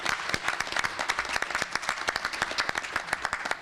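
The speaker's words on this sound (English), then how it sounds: "a round of applause" An audience at an opening plenary session claps for 3.7 seconds, dense and steady, close and moderately loud, with no talk over it.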